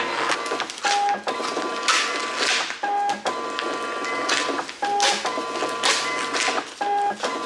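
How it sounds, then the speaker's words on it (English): A small barcode printer runs off DHL shipping labels in repeated whirring passes, each cycle ending in a short beep-like tone, close and clear with no talking. "And then they'll all print out on this little barcode printer in 2 seconds."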